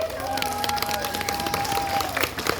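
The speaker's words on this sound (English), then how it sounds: "Give a round of applause for being so brave." An audience claps and cheers at a zoo animal show at the Minnesota Zoo, a lively crowd applause close by, mixed with voices and a high whistle-like tone running through it.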